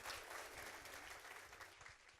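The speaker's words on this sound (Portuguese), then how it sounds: "Uma salva de palmas." Steady applause from a crowd, dense clapping filling the space for a couple of seconds without pause.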